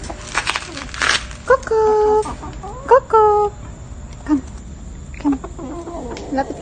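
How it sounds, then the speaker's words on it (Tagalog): Chickens cluck and squawk close by in short bursts, with a few drawn-out calls among scattered clucks. "chinichase talaga ako ng manok na to."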